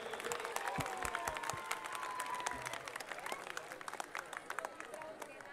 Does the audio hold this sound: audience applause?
yes